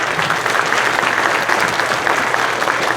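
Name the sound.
applause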